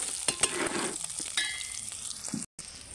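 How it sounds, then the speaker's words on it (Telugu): Sesame seeds, green chillies and peanuts fry in a pan with a close, crackling sizzle. Scattered stirring clicks and scrapes sound over it, and the sound cuts out briefly near the end. "నువ్వులు, పచ్చిమిర్చి, పల్లీలు మంచిగా ఫ్రై అయిపోయినాయి"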